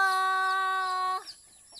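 A hen gives a single drawn-out, tonal call lasting about a second, followed by a soft cluck, close and clear with no talking, from chickens that have started laying eggs.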